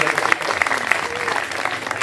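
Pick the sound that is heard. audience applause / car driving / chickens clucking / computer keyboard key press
audience applause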